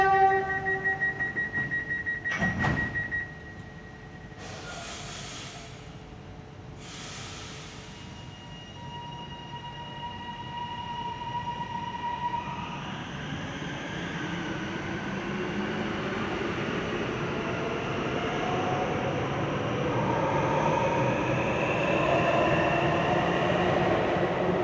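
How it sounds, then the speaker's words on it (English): Metro train departing Anzac station in the tunnel, with door chimes and short hisses first, then a rising electric motor whine and rumble that builds steadily as the train pulls away. "Still waiting for the train to go."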